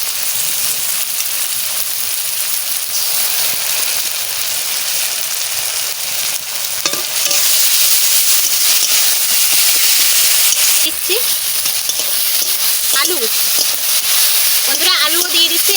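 Ground spice paste fries in hot oil for a dried fish curry with potato and eggplant, a loud continuous sizzle that swells partway through, with scraping stirs and a voice speaking over it.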